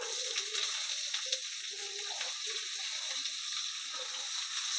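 A soft, steady sizzle of sliced onions frying in oil in a pan, with faint crackles and occasional stirring clicks, heard close up without talk.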